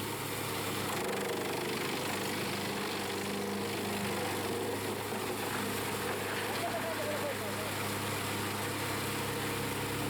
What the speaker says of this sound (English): drum wood chipper, powered by the robust Scania DC 13470 HP engine